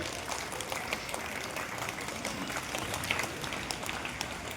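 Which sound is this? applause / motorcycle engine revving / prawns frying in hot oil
applause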